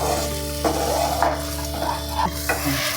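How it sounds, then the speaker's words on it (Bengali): Moong dal sautéed in spiced oil in a pan for a mugeswari potol dish, with a continuous close sizzle and several scraping spatula strokes stirring through it, all under a steady background hum and no talking. "এবারে আমি মুগের ডালটা দিয়ে দেব। মুগের ডালটা দিয়ে আমি ভালো করে কষিয়ে নেব।"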